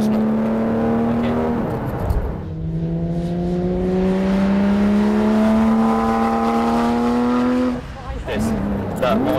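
A Porsche 911 GT3 RS accelerates out of a corner on a track, its engine note climbing steadily through a long pull, loud and close from inside the car, with a gear change near the end.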